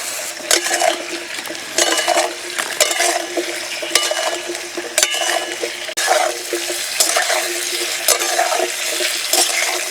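Papaya pieces frying in oil left from frying lentil dumplings, on a low flame, with a continuous close sizzle and frequent clinks and scrapes of a utensil stirring against the pan.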